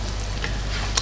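Petai stink beans frying in hot oil for shrimp tauco give a steady, close sizzle with faint crackles and a small pop near the end, no voices.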